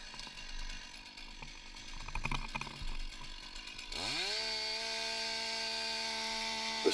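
A power saw cuts roof sheeting during firefighter roof ventilation. Crackling, gritty cutting noise comes first, then the engine climbs into a sustained high, steady whine. Moderately loud and continuous, with no voices.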